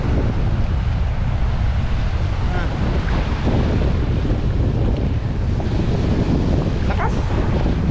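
Strong sea waves surging under heavy gusting wind on open water, a loud, constant roar with wind buffeting the microphone and a brief voice exclaiming.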